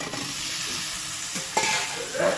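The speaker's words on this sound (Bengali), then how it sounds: "আলুটা দিয়েও ভালো করে কষাতে হবে।" New potatoes with cooked spices are stirred and sautéed in a hot pan: a continuous sizzle runs underneath, broken by a few sharp spoon scrapes and stirring swishes.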